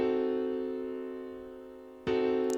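A diminished chord sustained on a keyboard instrument in a beat-production setting, ringing alone and slowly fading, with a second sharp attack near the end.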